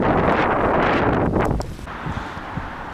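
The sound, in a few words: strong cold wind by the sea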